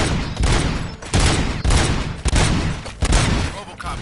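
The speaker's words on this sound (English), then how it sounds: "Gunshots?" Bursts of gunfire crack in rapid repeated volleys, loud and close, several distinct salvos in a few seconds.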